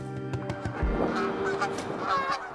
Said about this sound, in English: The sound of Canadian geese talking to each other as they fly